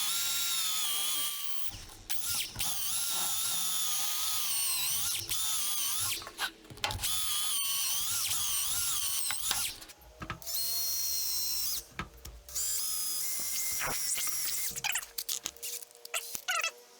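A power drill bores pilot holes into hardwood pallet wood, loud whining bursts of several seconds each separated by brief pauses, close up with no voices.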